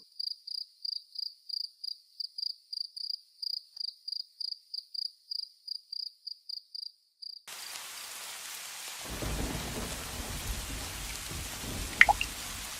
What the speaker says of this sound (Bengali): মনে হচ্ছে বাইরে বৃষ্টি হচ্ছে, আর ঘরটা ভাঙা, তাই পানি ভেতরে আসছে